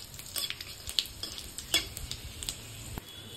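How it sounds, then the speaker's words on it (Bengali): Bay leaf, nigella seeds and dry red chillies crackle and sizzle in hot oil, close and fairly quiet, with light spoon stirs and small pops scattered through. "এখন আমি ওই তেলের মধ্যে তেজপাতা, কালা জিরা, শুকনো লঙ্কা ফোড়ন দিয়ে দিলাম"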